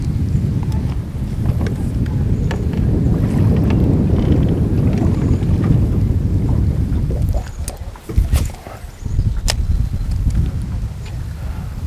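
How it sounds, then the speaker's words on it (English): Strong wind buffets the microphone on a lake during fishing with light 2-pound test line, a steady low rumble with brief gusty dips, lasting throughout and loud. "Now it's getting pretty windy for this 2-pound test."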